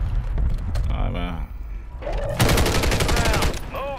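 A DG-58 LSW light machine gun firing in the video game Warzone, with loud rapid bursts of automatic fire and a sustained volley near the end, heard alongside game effects and someone talking.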